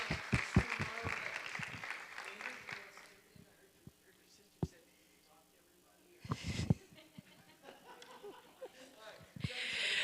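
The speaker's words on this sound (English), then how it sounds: "let's all take a minute and give a round of applause" Brief clapping in a school board meeting room fades into scattered claps, light laughter and shuffling, with a short burst of claps returning midway.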